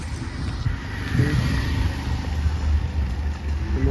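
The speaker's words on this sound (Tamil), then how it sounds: "நம்ம வண்டி நிற்கிது." A car engine idles low and steady at close range as the vehicle comes to a stop, its rumble continuing without any talk over it.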